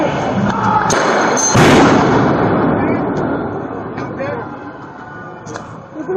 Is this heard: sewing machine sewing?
no